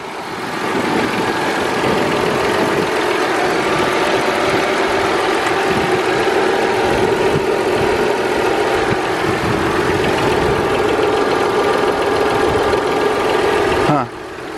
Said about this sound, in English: Yeah, so it's a V6 twin turbo.